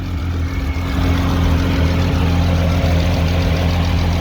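A car engine idles steadily up close, a loud low throbbing rumble with an even mechanical hum and no talking.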